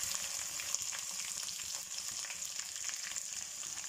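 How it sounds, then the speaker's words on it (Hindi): Ginger garlic paste frying with onions in a pan, a steady crackling sizzle with bright spattering pops, moderately quiet and continuous with no voices. "जिंजर गार्लिक पेस्ट डाल के भी मैं इसको अच्छे से फ्राई करूँगी"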